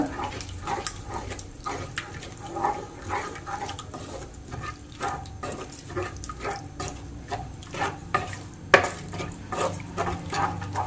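Prawn kuzhambu stirred in a pan with a spoon: repeated wet scraping and sloshing strokes in a steady rhythm, close by, with one sharper clack near the end.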